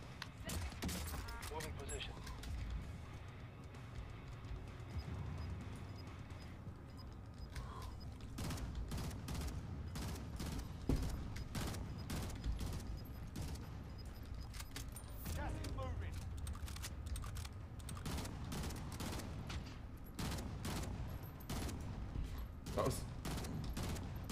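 Gunfire in Call of Duty Warzone during Season Two play: quiet, repeated sharp shot cracks scattered across a steady bed of game noise, loosening into clusters of rapid bursts later on, with players talking throughout.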